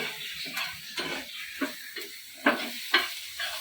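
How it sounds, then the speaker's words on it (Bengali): Pizza stuffing cooks in a home pan with a constant sizzle, under a rhythmic series of stirring scrapes and knocks roughly every half second, close and moderately loud. "পিৎজার এখন স্টাফিং তৈরি হচ্ছে, শালু রান্না করছে"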